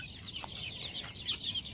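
Layer hens on a farm give short, faint clucks over a soft background hum, in a quick scattered burst with no talking.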